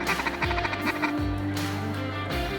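Pintail and mallard ducks call in flight over an Alberta hunting area, with loud, close, repeated honking and quacking calls overlapping in a rough rhythm.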